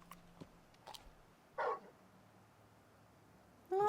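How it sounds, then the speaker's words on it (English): A large dog barks in Final Fantasy XVI: two short, loud barks about two seconds apart, standing out over quiet, low game ambience. "That's my dog."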